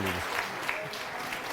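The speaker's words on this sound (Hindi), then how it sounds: "तालियों की गूंज से हमारी सोचने समझने की शक्ति गुम हो गई।" Applause from a studio audience on a Hindi news show fills the short stretch, dense and steady, with no voices over it.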